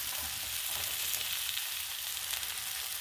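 Thick pork chops searing on a Blackstone griddle, a steady loud hiss of sizzling fat with crackling pops, close and continuous without speech.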